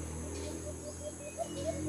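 A few soft bird coos and short calls sound faintly over a steady low hum.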